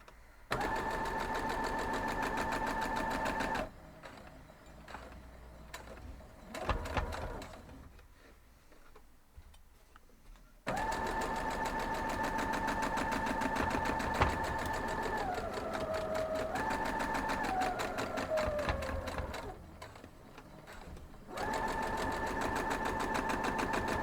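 A sewing machine stitches a quilt block in a steady, rapid mechanical whir with a tonal motor hum, stopping and restarting in several bursts with short quiet gaps between runs.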